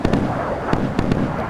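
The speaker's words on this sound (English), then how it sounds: "Radar laid gunfire coming in." Radar-laid naval gunfire in the naval combat game Sea Power, with several sharp booming shots at irregular intervals over a dense, continuous rumble of battle noise.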